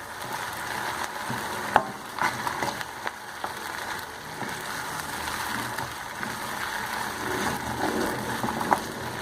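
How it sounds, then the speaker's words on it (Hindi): Red chillies, cumin and salt roasting in a pan for a poppy-seed chutney, a soft dry sizzle with scraping stirs and occasional sharp clicks of the spoon against the metal, fairly quiet and close. "वो हम ये इसमें डाल देंगे और इसको अच्छी तरह भून लेंगे मसाले को।"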